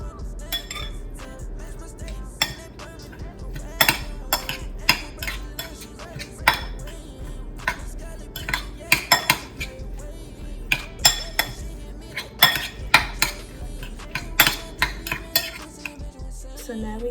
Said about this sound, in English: Now I'm gonna just mix that up.